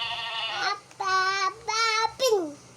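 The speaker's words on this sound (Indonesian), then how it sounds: "Ini suara kambing guys." Goat bleating: three harmonic, wavering bleats in a row, each about half a second long, close and fairly loud, with no talk over them.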